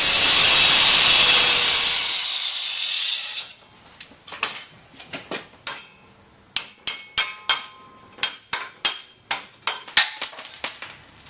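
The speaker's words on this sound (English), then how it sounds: "get over here and cut this thing off" An angle grinder with a cutoff wheel cuts off a nut in a loud, harsh burst lasting a few seconds, then falls away to a quick run of sharp metallic taps and clinks.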